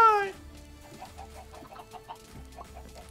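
Short clucking calls of Minecraft chickens, repeated in a loose series at moderate volume, following a brief descending tone at the start.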